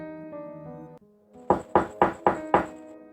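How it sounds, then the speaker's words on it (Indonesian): Five loud, evenly spaced knocks on a rickety wooden door at night, heavy and close, after a fading musical tone. "Wira langsung mengetuk pintu dengan cukup keras"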